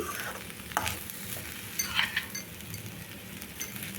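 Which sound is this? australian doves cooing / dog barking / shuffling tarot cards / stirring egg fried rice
stirring egg fried rice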